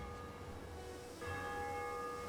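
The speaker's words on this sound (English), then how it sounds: "Church bells are even ringing." Church bells ring in a WW2 alternate-history multiplayer shooter, steady sustained tolling tones that swell louder partway through, heard alone without voices.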